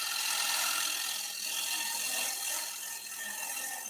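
A gouge cuts the inside of a wooden bowl spinning on a lathe, giving a continuous bright, hissing scrape that is close and fairly loud, with slight swells as the cut shifts.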